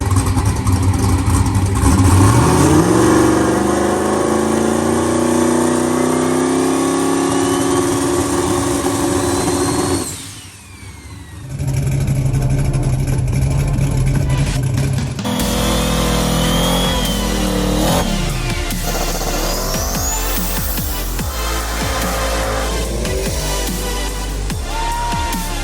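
Camaro race car fitted with a Precision turbo, its engine droning and revving steadily nearby as it drives, with a brief dip before the engine note changes and rises again.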